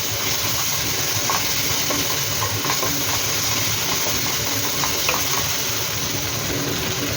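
Rice and garlic frying in oil in a pan, a steady dense sizzle and crackle that runs unbroken and fairly loud throughout, with no talking.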